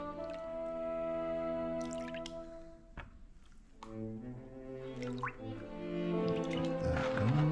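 Water sloshing and dripping as gravel and material are worked back and forth in a gold pan while prospecting, with wet squishing and splashes in uneven bursts, close and fairly loud, no talking.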